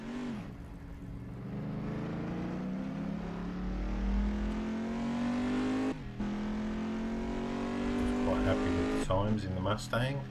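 In the Assetto Corsa racing game, a Mustang GT touring car's engine drones and climbs steadily in pitch as it accelerates, with brief gear-change dips and someone talking over it.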